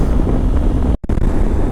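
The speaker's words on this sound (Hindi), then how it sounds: "हल्की हल्की बारिश हो रही है, बहुत तेज़ हवा चल रही है।" Strong wind buffeting the microphone as it blows across an open high-altitude road in Ladakh during light rain, a steady loud roar with one brief dropout partway through; no voices.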